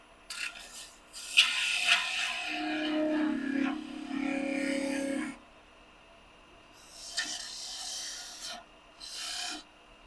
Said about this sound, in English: Getting out my small skew just so I can get in here a little tighter.